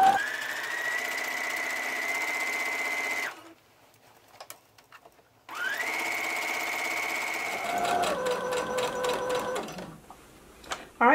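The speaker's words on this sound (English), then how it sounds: "I'm going to begin sewing and back stitch." A sewing machine stitches a ruffle tier onto a dress in two bursts of steady close whirring split by a brief quiet gap, the second run ending in quicker, choppier back-stitching.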